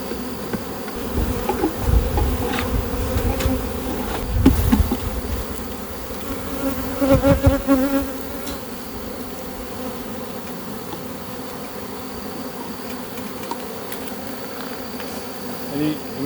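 A dense mass of honey bees hums continuously as they are shaken down from hive frames, a steady close buzz with a few bumps and knocks from the frames.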